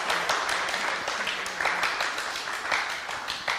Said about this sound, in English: So let's first of all get a round of applause